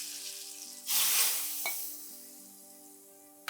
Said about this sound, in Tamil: வெங்காயம் நல்லா இந்த மாதிரி பொன்னிறமாக வந்தவுடனே எடுத்து தாளிச்சிட்டு ஊற்றிடுங்க